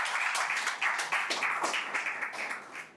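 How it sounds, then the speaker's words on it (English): An audience at a talk show claps in a steady round of applause, fairly faint and even, tapering off near the end. "A huge round of applause for that battle"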